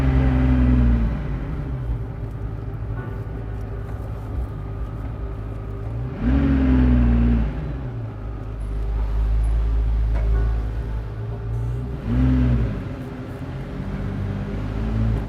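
A 1995 Ferrari F50 with a V12 engine revs while driving, three loud rising surges at regular intervals, each dropping back to a steady low rumble between them.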